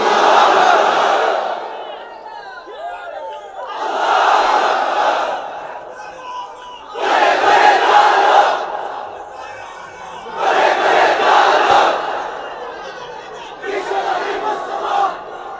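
A large gathering at a religious sermon roars takbir in unison: five loud, drawn-out collective shouts of Allahu Akbar, evenly spaced, each swelling and fading, with brief lulls between.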